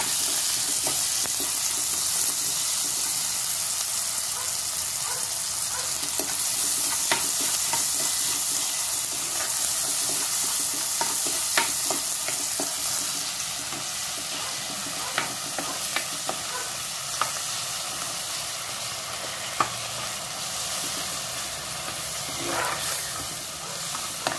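Sardine curry with onions frying in a pan as it is stirred, a steady broadband sizzle with scattered scraping clicks from the spoon running throughout, close and continuous with no talking.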